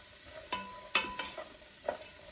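Mirepoix vegetables sauté in a soup pot while a spoon stirs them, giving a few quiet scrapes and clinks over a faint, low sizzle.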